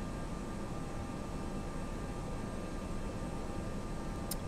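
Airbus A320 jet engines roar steadily during a takeoff roll in the X-Plane 11 flight simulator, a continuous broadband hiss and rumble at even loudness with no talk.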